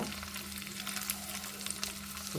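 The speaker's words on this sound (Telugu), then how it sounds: "పోపు అయితే వేగుతుంది వేగింది" Asafoetida, curry leaves and four garlic cloves fry in oil as a tempering for mango pickle, a dense, even sizzle heard close and alone over a faint steady hum.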